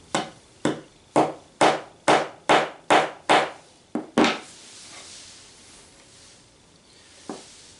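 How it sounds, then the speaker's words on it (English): Eight sharp, evenly spaced hammer blows driving a nail into a wooden board, then a pause, one more hit, quiet settling noise and a final faint tap. "and then just hammer it down."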